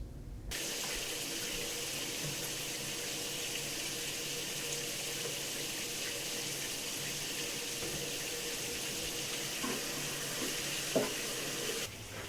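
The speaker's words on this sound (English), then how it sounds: "You've been taking shower for 20 minutes." A shower runs steadily, making a continuous even hiss of falling water with no breaks and a faint knock near the end, heard alone with no voices.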